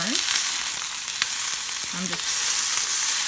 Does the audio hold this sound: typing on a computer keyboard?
no